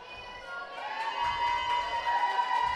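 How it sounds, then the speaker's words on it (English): A roller derby crowd cheers and shouts along a bout's bench area, a steady, moderately loud roar of voices and whistling that swells slightly and holds. "All the cheering."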